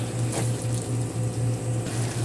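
Hot water poured into a pot of mung beans being cooked, a steady continuous watery rush with a faint pulsing hum underneath, close and fairly loud without any speech.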